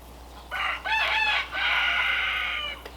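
A rooster crows twice in quick succession, clear and fairly close, then gives a longer drawn-out crow, with faint background hiss and no talking.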